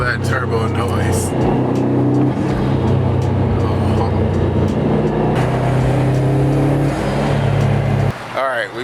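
A Subaru WRX STI under way gives a steady, loud engine drone with turbo whoosh and rising and falling tones through gear changes, dropping briefly near the end.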